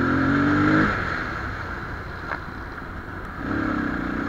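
A Yamaha R3 motorcycle exhaust revs up, drops to a steady idle drone, then revs up again, close and loud with no voices.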